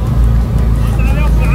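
A Chevrolet Vectra GLS engine idling nearby, a steady low rumble running throughout with faint voices in the background.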